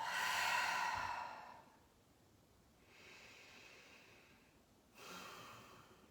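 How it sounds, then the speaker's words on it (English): Breath exhaled through the mouth during a gentle neck and shoulder stretch: a long, loud airy rush that fades, followed by two softer breathy exhales a few seconds apart, with no talking. "Another big inhale. Exhale out the mouth."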